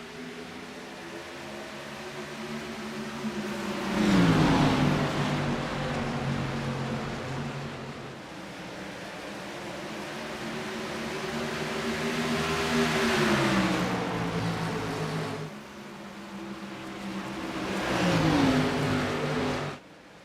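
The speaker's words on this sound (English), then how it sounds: "the iRacing official pace car dives in this time by" Simulated race cars and a pace car lapping Iowa Speedway in iRacing, engines droning steadily with rising and falling pitch as packs pass, swelling into loud passes near 4, 13 and 18 seconds.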